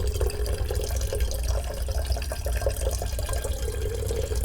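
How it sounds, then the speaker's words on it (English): Tap water runs steadily into a kettle being filled to about 1.5 liters, a continuous close splashing stream with no one talking. "then we're just going to fill the rest up with water"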